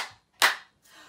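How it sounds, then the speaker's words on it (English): A single sharp hand clap, close and crisp, done as part of a children's action rhyme, with softer trailing sounds before and after it. "give a little clap"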